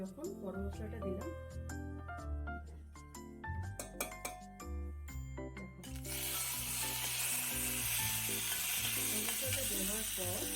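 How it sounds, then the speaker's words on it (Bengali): Whole garam masala spices dropped into hot oil, giving a steady close sizzle that swells and holds, while a person talks over it and light clinks of a utensil and pan ring out beforehand. "তেলটা গরম হয়ে গেছে যখন গরম মশলাটা দিলাম"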